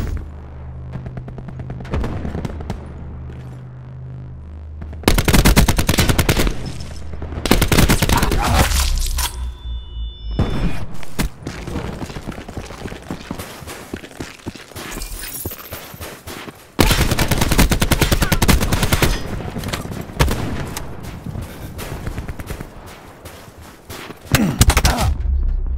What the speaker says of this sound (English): Hostiles have destroyed your barricade.